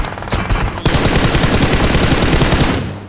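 Rapid automatic gunfire from PUBG Mobile rattles continuously and loud, a brief lull near the start before sustained bursts of shots carry on to the end.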